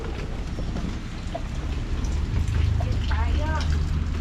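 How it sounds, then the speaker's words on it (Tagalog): Steady heavy rain roars in the background, with a few faint higher chirps and a low rumble rising partway through, during a road trip in Misamis Oriental, Mindanao. "Oo, grabing ulan, no?"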